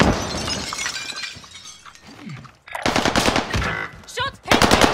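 Video game gunfire crackles in loud bursts: rapid automatic fire at first, then heavy overlapping shots after a brief lull, close and harsh with glassy, shattering edges.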